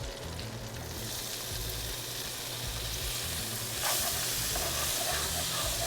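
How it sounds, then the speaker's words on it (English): Onions, celery and green pepper sizzling in an olive oil and butter mixture, a continuous dense hiss and crackle that swells louder partway through, with no talking. "in the very grease, olive oil, butter mixture, we'll go in with the Trinity"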